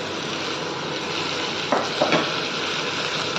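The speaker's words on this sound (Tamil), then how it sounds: "போட்டு சும்மா ஒரு பெரட்டல் லைட்டாக வதக்கிக்கலாம்." Broccoli is lightly sautéed in a pan for a creamy broccoli soup, giving a steady close sizzle. Two brief scraping stirs stand out near the end, and no one speaks.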